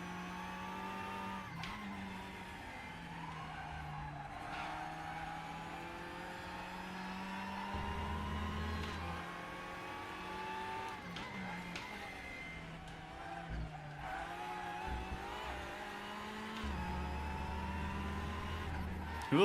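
A race car in the RaceRoom sim racing game howls through a corner, engine pitch climbing and dropping with gear changes while tyres squeal and skid, loud and continuous throughout.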